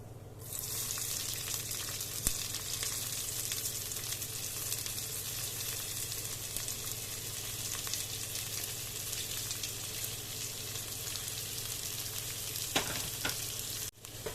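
Onions sizzling and frying steadily in a pan with golden-browned garlic over a low flame, a dense continuous crackle close by with a faint clink near the end, no voices.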